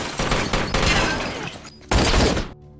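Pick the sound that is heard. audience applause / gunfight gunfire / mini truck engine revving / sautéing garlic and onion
gunfight gunfire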